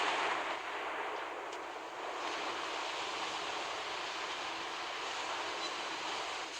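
Heavy battleship gunfire from Naval Creed, Project 21 Lenin class, sounds as a sustained broadband roar of shells and rumbling blasts that fills the mix throughout, with no talking over it.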